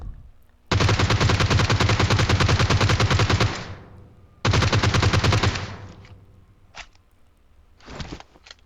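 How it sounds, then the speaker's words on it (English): A 6x-scoped rifle fires long bursts of rapid automatic fire in PUBG on the snowy Vikendi map. Two loud sustained sprays of several seconds each are followed by a few short single shots, with no talk over them. "I really love how the 6X sprays at that distance"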